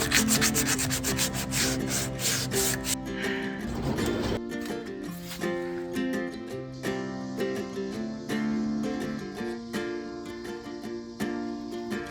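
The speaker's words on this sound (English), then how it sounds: "But there's still these little grooves in there that I need to sand it out." Sandpaper rubs along the grooves of an old wooden TV armoire cabinet, a steady rasping that runs throughout beneath prominent background music.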